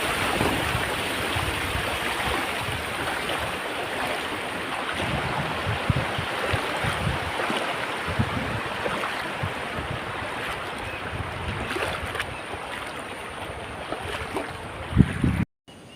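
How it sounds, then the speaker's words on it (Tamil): Floodwater after heavy December rains spreading across farmland like a sea, heard as a steady broad rushing and wash of water with wind, constant and moderately distant, with no voices. "அதனுடைய பெருவெள்ளத்தை நீங்கள் பார்த்து கொண்டிருக்கிறீர்கள்"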